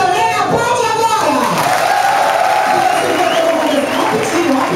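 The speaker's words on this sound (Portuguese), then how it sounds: "Quem acha que elas devem descer pra ver que eu canto também, aplaude agora!" A nightclub audience at a live drag show applauds and cheers throughout, a steady loud wash of clapping and crowd noise with voices mixed in.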